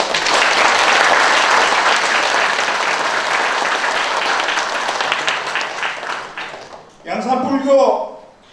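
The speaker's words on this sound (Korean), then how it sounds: "큰 박수." Loud, sustained applause from a crowd at a founding anniversary ceremony of a Yangsan history and culture institute, fading near the end as a voice starts speaking over it.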